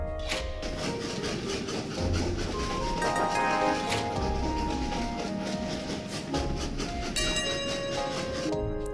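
A train in the video game Train Valley rolls along with steady rumbling, wheel clatter and bright clicking game sounds layered over the engine noise, continuous and fairly loud.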